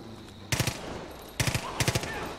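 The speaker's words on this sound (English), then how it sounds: "I'm shooting from behind." Automatic gunfire in the video game Far Cry 5, fired in two quick bursts of rapid shots with a short gap between them, sharp and fairly close over ambient game sound.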